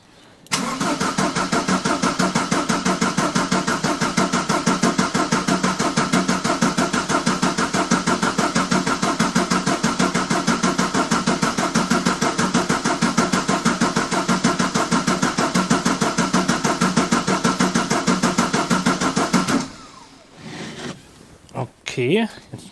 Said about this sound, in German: lasse ich jetzt erstmal so kurz ein wenig orgeln, damit der Sprit zieht.